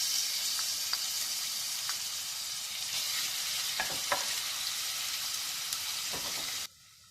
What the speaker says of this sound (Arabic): نحط البصل يتقلى